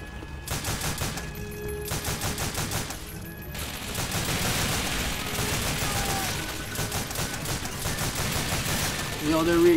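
Sustained machine-gun fire from Call of Duty: Finest Hour as soldiers clear a building, rapid evenly spaced shots rattling in long bursts, loud and close, with voices underneath.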